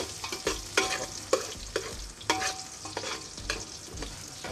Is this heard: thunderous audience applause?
no